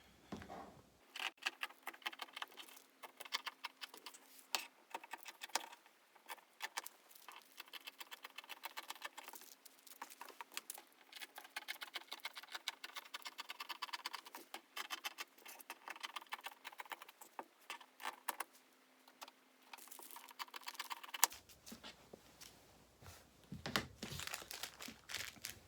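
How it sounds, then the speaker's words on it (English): Scissors snip steadily through fabric to cut out pattern pieces for a milliner's waistcoat toile, a close, continuous run of crisp crinkling cuts and paper rustle with a faint hum underneath, stopping near the end. "So now let's get scissors and we're going to cut this out."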